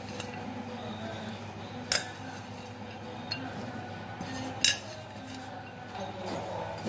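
A metal spoon stirs chopped snake gourd in a cooking pot, with soft scraping and a couple of sharper clinks against the rim at a steady, unhurried pace.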